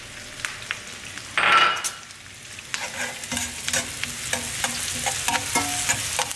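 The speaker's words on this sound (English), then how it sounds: "we're gonna saute those shallots and mushrooms" Shallots and mushrooms sautéing in a pan for filet mignon: a steady sizzle with a loud burst of frying early on, then repeated spoon stirs and scrapes against the pan, close and clear with no talking.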